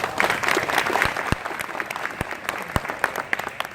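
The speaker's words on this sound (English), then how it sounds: "Give her a round of applause, please." Crowd at a Sheriff's Camp awards ceremony applauds a camp staff member, steady clapping with a few sharp, louder individual claps and thumps standing out near the listener.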